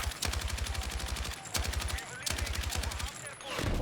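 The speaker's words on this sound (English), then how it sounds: "Yeah, that's a machine gun." Machine-gun fire rattles in rapid, evenly spaced bursts in Battlefield 6, loud and close, with three volleys separated by brief pauses and a low rumble at the end.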